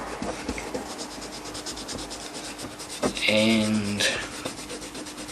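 A corroded metal item is rubbed by hand with Silvo polish, giving rapid, rhythmic, close scrubbing strokes, with a brief spoken word partway through.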